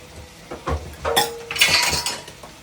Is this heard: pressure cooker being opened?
yes